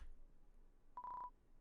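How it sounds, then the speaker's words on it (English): Phone call ringing in the Undertale video game: a single short electronic tone, a brief steady beep, rises faintly out of quiet room noise and stops. "Hold on, getting a phone call."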